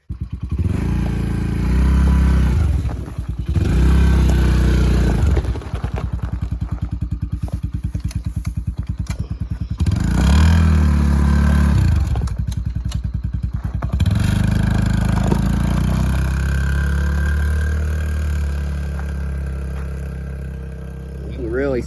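An ATV engine, fitted with fire-truck lights, fires up and runs as it drives down the road and back, a loud steady motor drone with thumps and clatter, rising and easing as it passes, with talk mixed in.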